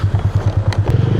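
A delivery motorcycle strains under a heavy load, its engine chugging in a steady, close, low pulsing rhythm with some clattering and a brief higher scrape midway.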